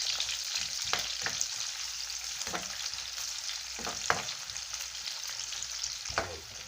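Chopped onions frying in a pan for a simple scrambled-egg dish, a constant close sizzle with occasional soft knocks and scrapes of stirring.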